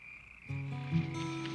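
Frogs croak in a low, steady chorus outdoors, starting abruptly and holding at a moderate level.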